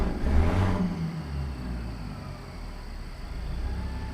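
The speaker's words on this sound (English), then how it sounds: "So you hear the engine wind down" In American Truck Simulator, a truck engine winds down, a low rumbling drone that eases off after an initial surge and settles into a steady idle hum, heard alone with no talking.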